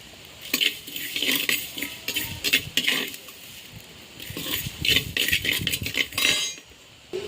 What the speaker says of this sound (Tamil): மல்லி இப்ப வந்து மல்லியை வறுக்கிறோம்